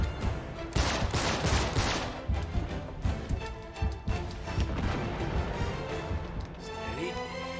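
Gunfire in the Uncharted 3: Drake's Deception video game, heavy volleys of rapid shots and booming hits packed close together, loud and sustained throughout, with no speech.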